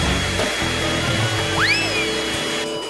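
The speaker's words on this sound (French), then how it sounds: "Ensuite, je prends le sèche-cheveux." A hair dryer blasts a continuous, close whoosh over popcorn kernels on a plate, loud and steady throughout, with a brief rising whistle near the end.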